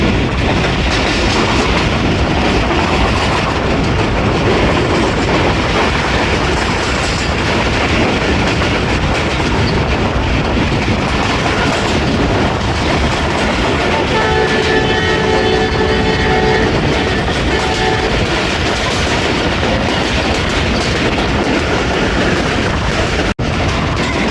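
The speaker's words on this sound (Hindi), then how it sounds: "पास थ्रू हो रही है जाफर एक्सप्रेस कर्व के साथ।" The Jaffar Express passenger train rolls past on a curve between Attock and Domeli in foggy winter weather, a loud continuous roar of wheels and carriages with a thin squealing tone rising midway.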